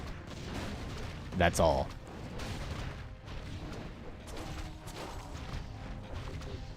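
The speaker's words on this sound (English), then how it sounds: "One mortar team." Mortar team firing in a Warcraft III battle against Dryads, with booming artillery shots amid a busy clatter of combat noise, one loud blast standing out, heard under a commentator's talk.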